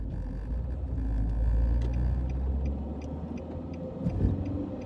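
A lorry rumbles past on a road in the ancient Weald, its low engine drone swelling near the middle and fading, heard from inside a moving car with faint ticking and road noise.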